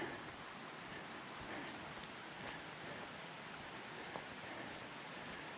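Steady broadband rush of running water, continuous and even, like a stream flowing nearby with no voices.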